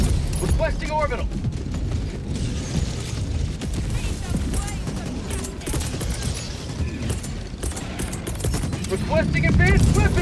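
Helldivers 2 battle in which an orbital strike is called down, a dense barrage of gunfire, mechanical clatter and booming blasts running throughout at high intensity, with a voice speaking briefly over the din.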